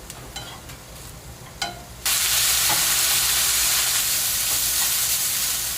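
Vegetables sizzle loudly in a hot pan for an omelet roll filling. Faint clinks of stirring come first, then a sudden steady frying hiss that carries through to the end with no talking.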